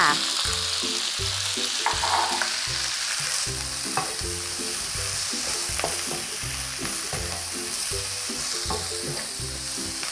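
Cabbage stir-fried in a pan with fragrant garlic while making Thai glass-noodle stir-fry, a steady loud sizzle with rhythmic scraping and clanking of the spatula throughout, no voices.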